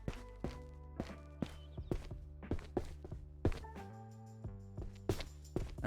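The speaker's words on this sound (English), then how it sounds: "That was my footsteps, I think." Player footsteps in the video game Ghosts of Tabor, a steady series of close thudding steps with dull impacts, set over a sustained low tonal game background.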